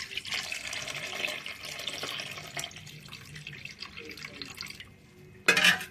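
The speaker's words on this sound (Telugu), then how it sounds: "ఇప్పుడే చింతపండు పులుసు పోసేద్దాం." Tamarind juice poured into a pot while cooking fish curry, a wet trickling and dripping pour with splashy liquid sounds, ending in a brief louder burst of splashing.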